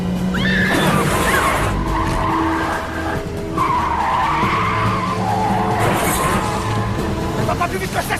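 Tires squeal and skid loudly during a car chase, with a revving engine underneath and a few brief pauses, while voices shout over the noise.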